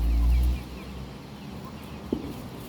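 Chickens and roosters shut in a closed coop give soft, scattered clucks under a low hum, after a heavy thump of rumble at the start and one brief sharper call near the end.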